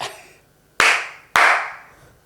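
Two sharp, loud claps ring out about half a second apart, each decaying quickly into a short room echo, following a softer fading tail at the start.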